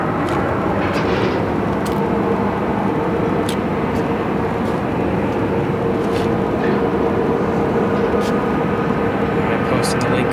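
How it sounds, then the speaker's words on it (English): An American Airlines Airbus A319 turns onto runway 25 at Phoenix Sky Harbor airport, bound for Las Vegas: a steady, unbroken engine roar fills the whole stretch, with a few faint clicks over it. "And then just turning right on to runway 25, we have an American A319 headed straight for Las Vegas."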